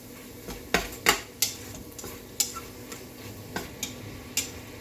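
A spoon clinks and scrapes against a pot as tomato paste is stirred into a pork pozole base, about a dozen sharp metallic taps in an uneven rhythm, close and clear over a faint kitchen background.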